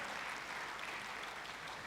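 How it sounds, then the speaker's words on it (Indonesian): A church congregation claps together in a continuous, dense wash of applause, steady and fairly distant, with no voices standing out. "Tepuk tangannya pula yang paling meriah buat Tuhan kita."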